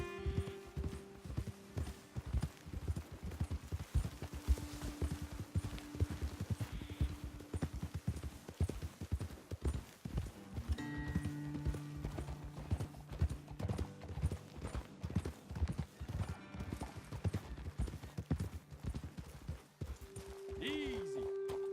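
Horses ridden at a walk in Red Dead Redemption 2 give steady, close clip-clop hoofbeats throughout, with a snort or whinny, music and a voice talking over them at times.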